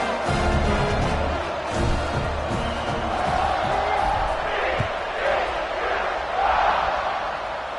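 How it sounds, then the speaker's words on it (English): Stadium crowd in a college football video game with Baylor, a steady loud buzzing roar of many voices that swells slightly at moments and runs throughout. "this crowd is buzzing after that last score."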